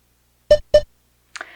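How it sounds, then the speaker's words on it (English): Two short electronic beeps from a workout interval timer during a chair Pilates class, evenly spaced and clear, followed by a brief fainter chirp. "Let me get my timer going and we will start."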